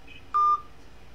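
A single short telephone dialing tone sounds once, clear and close, a brief steady beep against quiet background hiss.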